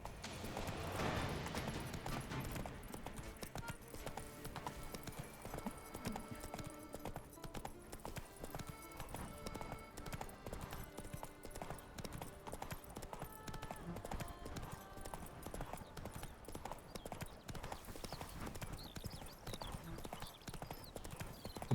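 Horse galloping in the video game The Witcher 3: Wild Hunt, a steady, rapid clip-clop of hooves that repeats without a break, near and fairly quiet, with brief talking over it.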